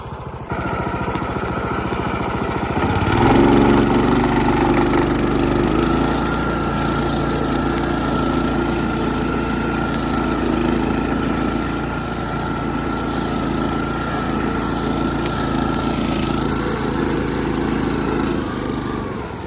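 A self-propelled KSM 0.6 mulching mower runs loud and close while it cuts and mulches grass between bushes. Its engine drones steadily and throatily the whole time, swelling slightly as it works, with no talk.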